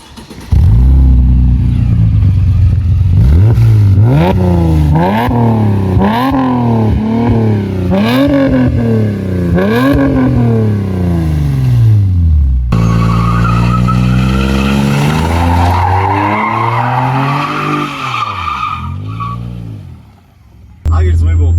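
A Mercedes-Benz CLS550 engine revs repeatedly in rising and falling bursts, then tires squeal and skid loudly for several seconds before it quiets.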